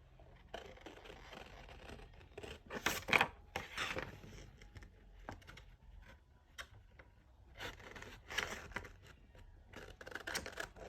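Scissors snip through a paper box template in a quiet room, with irregular close cutting and rustling of the paper in scattered bursts.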